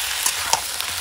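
Chicken curry with leg pieces frying in a pan over a wood-fired chulha, a steady broadband sizzle with a couple of soft stirring knocks, close and alone without talk.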